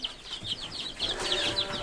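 Hens on a farm give repeated soft clucks over a steady low background, several short calls following one another at moderate distance.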